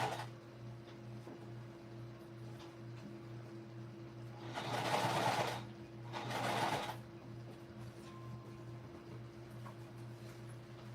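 A sewing machine top stitches an Addy shoulder bag with the fabric sticking a little, running in two short bursts of rapid whirring over a steady low electrical hum, with quiet pauses around them.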